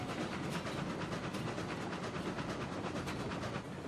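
Class 48 locomotive rolling steadily in the train game Railroads Online, a dense continuous rumble with rhythmic clatter, fairly near and unbroken throughout.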